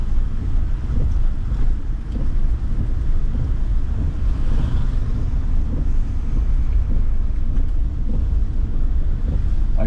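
Steady rain falls on a Philippine street where people walk and ride motorbikes, trikes and jeepneys, a dense continuous hiss and patter with low rumble throughout, loud and unbroken with no voices.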